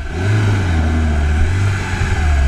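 A 4x4 off-roader's engine revs hard while driving through sand, a loud steady low-pitched drone with rising and falling engine tone held close for the whole stretch, no voices.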